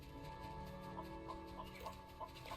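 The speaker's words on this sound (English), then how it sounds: "Chicken." Clucking from a chicken in the Solarpunk survival building game near a chicken coop, a series of short clucks repeating over steady background game ambience, moderately close.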